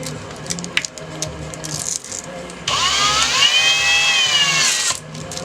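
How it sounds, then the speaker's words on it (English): A power drill fitted with a shoe-cleaning brush attachment, set to drill mode, whirs into a loud steady whine with a rising pitch for about two and a half seconds after handling sounds, then stops. "Drill setting should be on drill mode."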